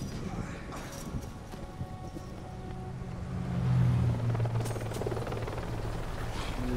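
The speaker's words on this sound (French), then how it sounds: "Hélicoptère." Helicopter in the video game Dead Light, a steady rotor rumble and chop that swells louder near the middle and carries through to the end, with faint voice-like sounds and other game noise mixed in.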